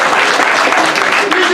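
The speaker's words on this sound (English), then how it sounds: "Give them a nice round of applause." An improv comedy show audience gives the troupe a round of applause as they enter, loud, dense, close-sounding clapping with faint voices mixed in.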